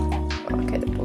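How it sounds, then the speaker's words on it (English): A tablespoon of apple cider vinegar poured by eye into a banana bread batter, a short wet trickle and drip lasting about a second, close up with a steady hum beneath. "use 1 tablespoon of apple cider vinegar"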